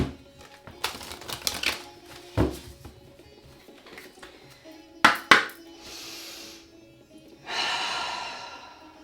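Tarot deck being shuffled, irregular riffles and sharp card slaps close up, then a softer airy breath or sigh near the end, no words spoken.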